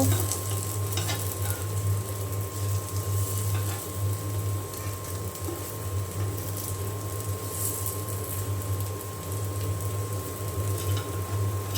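Red lentil fritters fry in a pan of oil, a continuous dense sizzle and crackle heard up close, steady throughout under a faint constant hum.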